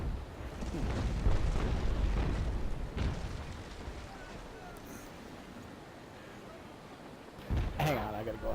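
Ship cannon fire in the Naval Action game, a loud rumbling volley of booms at the start, then a fainter later blast, with background game noise and speech.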